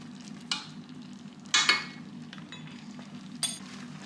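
Apples being stirred in a bowl for a salted caramel apple crumble, with a few soft clinks and scrapes of a utensil against the dish, separate brief bursts over quiet background, no talking.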